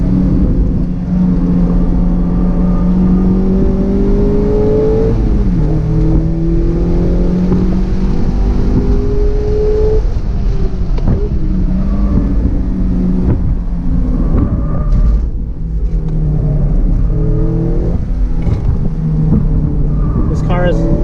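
Mazda MX-5 Miata ND1 engine on track laps at VIMC, revving up and down through gear changes with rising and falling drone, heavy wind buffeting the microphone and a voice talking over it.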